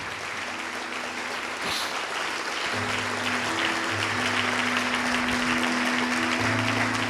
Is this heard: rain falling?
no